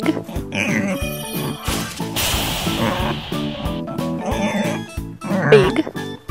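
Grunting pig oinks come through over a steady, busy musical accompaniment, with a burst of hiss partway through and a snort near the end.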